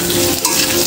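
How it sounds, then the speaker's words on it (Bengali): Spice paste of ground coriander and Kashmiri chili powder stir-fried in a pan for a Bengali pui shaker chanchra with fish head, a loud continuous sizzle with scraping stir sounds, close up and without talk. "এবার এটাকে ভালো করে আমি কষিয়ে নেব মশলাটা।"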